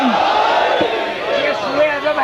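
A crowd at a Shia majlis gathering answers the Nara-e-Haidari slogan with a loud, sustained collective shout. The voices swell and overlap continuously for about two seconds, close and dense, with no single speaker standing out.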